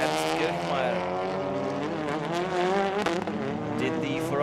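A BMW M3 and a Hyundai i30 race car scream into the second corner at the Red Bull Ring, loud overlapping engine whines rising and falling with gear changes, a commentator talking over them.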